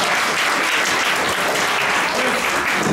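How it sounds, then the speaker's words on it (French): A roomful of seniors at a municipal Journée des Aînés event breaks into sustained, loud, even applause, a dense continuous roar of clapping with no pauses. "on peut s'applaudir"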